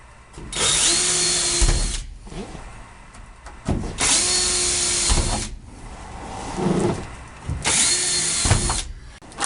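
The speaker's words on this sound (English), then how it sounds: "And just like before, we're going to drill and screw." A power drill drives screws into the headliner of a 1964–67 VW bus during a bamboo headliner installation, three loud whirring bursts of about two seconds each separated by short pauses, with faint handling noise between them.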